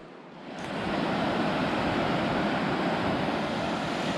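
Ocean surf breaking along the Tasmanian coast near Hobart, a steady broad wash of waves that swells up after the first half second and stays loud and continuous, with wind noise on the microphone.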